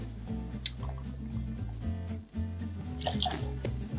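Apricot liqueur trickling and splashing into a glass for a Sea Breeze cocktail, a short close pour with liquid gurgles over soft background music.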